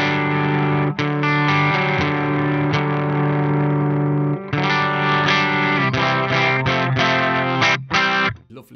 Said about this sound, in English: Lovely, lovely compressed overdriven sound.